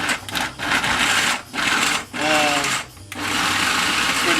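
Garlic is ground for Italian pasta in what sounds like an electric grinder: several loud whirring motor bursts separated by brief pauses, close up, with a person talking between them.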